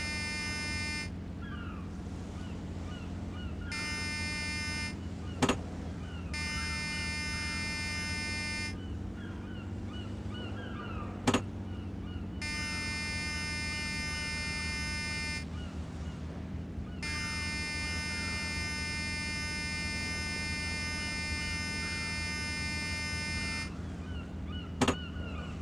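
A buzzer in the Deadliest Catch: Alaskan Storm PC game signals the crew on a crab boat to drop a pot: long, steady harmonic buzzes sound again and again over a constant engine and sea drone, with a few sharp clicks.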